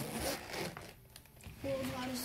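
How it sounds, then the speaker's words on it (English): A zipper is pulled shut on a case for a plasma globe, giving quick rasping pulls close by, with talk partly overlapping. "I'm just gonna zip this up."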